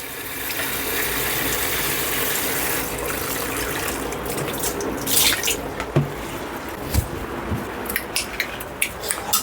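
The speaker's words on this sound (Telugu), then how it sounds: "కడగమ్మ మటను కడగమ్మ" Tap water runs into a kitchen sink while a kilogram of raw mutton is washed in a cloud kitchen, a steady splashing flow with scattered drips and clinks toward the end; no speech.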